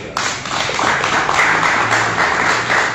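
Dense, steady applause from an audience at a press conference for the XXXI Festival delle Torri at the Palazzo di Città, Cava de' Tirreni. It starts abruptly and holds at an even, loud level throughout with no talk over it.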